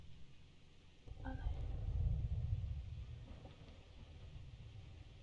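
Thunder rumbles in a Roblox horror cleaning game at night: a single low, faint swell that builds over about a second and slowly fades away, with no talk over it.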